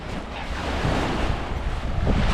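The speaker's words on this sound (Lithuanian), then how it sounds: "Iškart prasideda vėjas ir bangos." Wind roars against the microphone as waves wash and churn on Lake Garda at Riva del Garda, a dense continuous rush of gusts and surf without pause.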